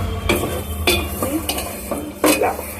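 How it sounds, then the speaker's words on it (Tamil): Biryani being stirred in a cooking pot on a high flame, with several distinct scraping strokes of a spoon against the metal pot over a steady low sizzle, close and fairly loud, no talking. "கலந்து விடுவேன்."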